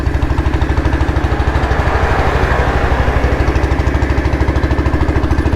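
A restored Royal Enfield Bullet motorcycle with a CI engine runs steadily, its single-cylinder thump beating in a fast, even rhythm. The engine is loud and close and plays alone throughout.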